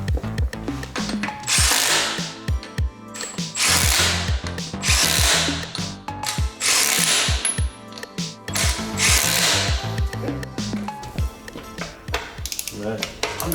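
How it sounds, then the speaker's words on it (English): Milwaukee impact wrench fitted with a 22mm socket running nuts on a 4.4 TDV8 Range Rover L322, loud close rattling hammering bursts separated by brief pauses and mechanical clicks. "Just put the 22mm socket on my little baby Milwaukee Impact just to run the nuts on."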